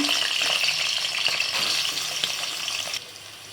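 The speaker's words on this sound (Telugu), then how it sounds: "ఇప్పుడు ఆయిల్ పెట్టుకొని మిల్ మేకరు ఫ్రై చేసుకుందాం" Soya chunks (meal maker), boiled in salted water and drained, frying in hot oil with a loud, continuous crackling sizzle and occasional stirring clicks, easing slightly near the end.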